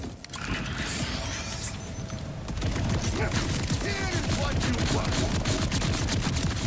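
Rapid bursts of a Jacobs SMG firing in Borderlands, loud continuous clatter of shots with mechanical clicks and game effects layered under it.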